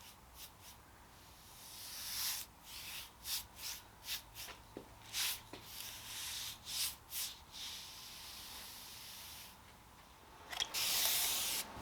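Brush or rag strokes rub latex paint used as a stain into the raw wood of a dresser, giving a series of soft, rhythmic swishing passes, close and quiet, with no talking.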